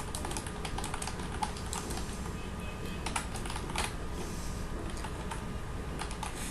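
Steady, continuous typing on a computer keyboard, with dense, even clatter of keystrokes running throughout and a few slightly louder taps, close and alone with no talk.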